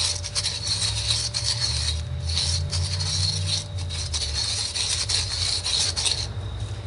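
Close scraping and rasping as varnish and built-up muck are worked out of piston ring grooves, a steady abrasive rub running continuously with brief pauses and a faint machine hum underneath.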